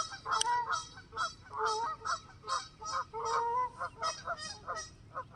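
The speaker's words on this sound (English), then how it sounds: "Sorry you guys can't hear anything of these geese." Geese honk near a river in loud, repeated bursts of nasal calls, several birds overlapping in an irregular rhythm close by, with no talking over them.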